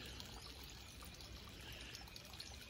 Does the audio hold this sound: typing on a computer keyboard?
no